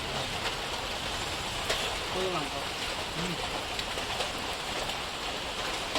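Steady rain pours with gusting wind over an outdoor night cooking session where meat is being fried in Assam, a dense, even hiss throughout with a person speaking briefly beneath it.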